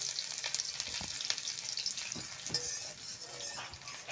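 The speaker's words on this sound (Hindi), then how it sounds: "थोड़ा सा ऑयल डालेंगे, सरसों का तेल, प्याज डालेंगे काट के।" Chopped onions fry in mustard oil for a soya chunk curry, giving a steady, fairly quiet crackling sizzle with occasional stirring clatters and no voices.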